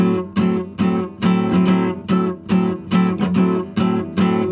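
Nylon-string guitar strummed in a steady swung gypsy jazz rhythm, bright strokes alternating with lighter swung upstrokes, close and clear with no talking.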